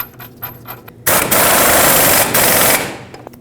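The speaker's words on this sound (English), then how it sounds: "put the mounting nut back on the ball joint stud" Impact wrench tightening the ball joint mounting nut on a 2009-2010 Dodge Ram 1500 front suspension, a loud rapid hammering burst lasting nearly two seconds after faint clicks, close up.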